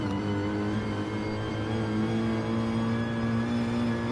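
A race car engine is revved low, a steady loud drone with sustained harmonic tones and slight pitch drift, continuous with no talk over it.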